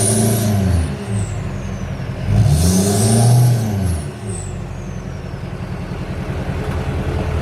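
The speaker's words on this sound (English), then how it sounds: "if I actually put it in drive, then it should have a little more tone to it" A vehicle engine put in drive revs twice, its deep tone climbing and falling, under a constant idling rumble, close and loud, with no voices.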